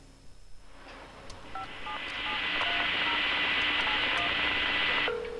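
A woman redials a caller who just hung up, keying a string of telephone touch-tone beeps in steady succession over a hissing line, ending in a single sustained tone.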